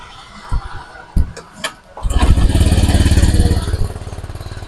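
A Honda Click 150 scooter with no panel power is kick-started: a few sharp kick clunks, then the engine catches and runs with a loud, close, rapid putter.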